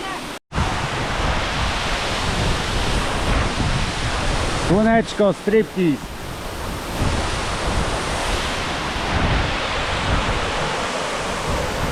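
Can-umantad Falls in Bohol, Philippines, a steady loud rush of falling water that continues throughout, with a short burst of talking partway through.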